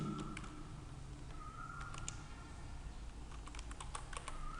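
Quiet, steady clicking of a computer keyboard as Java code is typed, with irregular soft keystrokes and no talk.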